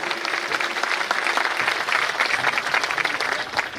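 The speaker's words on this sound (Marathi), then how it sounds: "आपण एकदा जोरदार टाळ्या वाजवा सर्वांनी." An audience at a stage event claps loudly and steadily, a sustained wash of applause from a crowd throughout.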